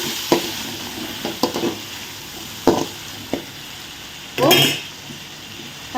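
Onions and tomatoes fry in a pan with a steady soft sizzle, punctuated by a few sharp spoon taps and a brief scraping stir, heard up close with occasional talk.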